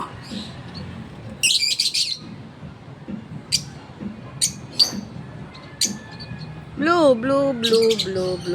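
A blue bird chirps close by, giving short bright bursts of tweets and a few harsher squawks with quiet gaps between calls.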